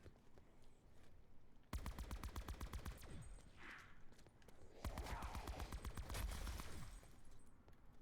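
Gunfire in the Black Ops 4 Zombies map Blood of the Dead, heard as two rapid automatic bursts of sharp, evenly spaced shots at fairly close range, separated by a brief pause.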